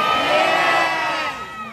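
A big crowd, children's shrill shouts and whoops among them, cheers loudly at an evening animal show at Singapore's Night Safari, a dense burst of voices that swells and then fades.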